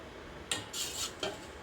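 A spoon scrapes and clinks against a cup as custard powder is stirred into water, giving a few short metallic strokes over a steady background hiss.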